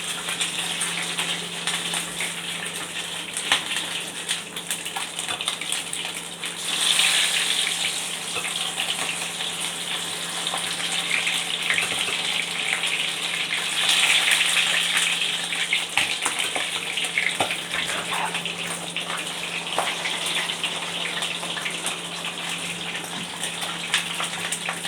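Tap water gushes steadily while mombar sausage casings are washed and left to drain, a loud, continuous close-up rush that swells in two stronger bursts with no voices.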